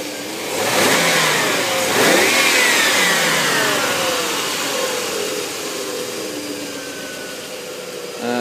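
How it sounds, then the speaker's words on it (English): A BMW 735i with the 3.5-litre M62 V8 revs up loudly and close, climbing to a peak around two seconds in and then settling into a sustained, slowly falling engine roar. "It's the M62 engine, it's the later V8s they made."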